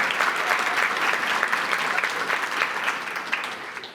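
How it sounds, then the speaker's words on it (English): An audience at a Chicago leadership breakfast claps in a steady, dense round of applause, close and full, tapering slightly toward the end. "That deserves applause."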